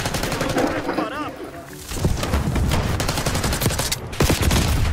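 Dense automatic weapon fire in the shooter Call of Duty: Black Ops 6. Loud volleys run almost continuously with a brief lull near the start, and a voice talks faintly underneath.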